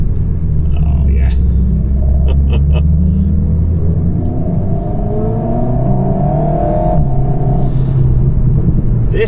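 An Alpine A110S climbs an Italian mountain road with a deep, steady engine rumble and rising revs heard from inside the car, while people talk over the drone.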